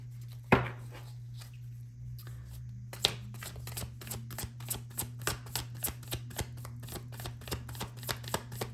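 Close, crisp tarot card shuffling: a few scattered riffles, then a steady run of evenly spaced slaps and flicks over a low constant hum.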